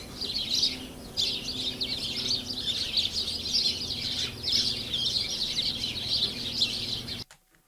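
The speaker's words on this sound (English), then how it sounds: "The birds actually sound like this." Dense, continuous high chirping and twittering from many birds, steady and fairly loud throughout, cutting off abruptly at the end.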